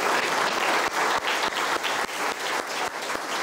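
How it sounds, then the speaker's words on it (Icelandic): An audience applauds award recipients at a school-achievement ceremony, with steady, dense clapping that fills the room throughout, loud and continuous without speech. "Og við skulum gefa þeim öllum gott klapp."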